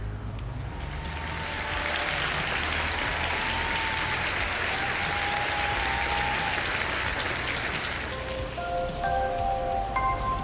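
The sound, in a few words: applause sound effect on a livestream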